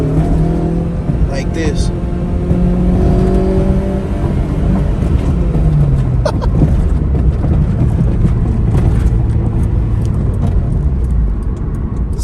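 A K24-swapped Acura RSX pulling hard in second gear at night, its engine droning loud and close with pitch rising and falling as it revs, someone talking over the cabin noise.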